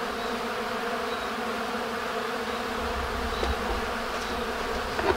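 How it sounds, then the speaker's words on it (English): Bees buzz continuously at an urban beehive in a city setting, a dense steady drone with no voices, individual insects occasionally passing closer. "You got bees here?"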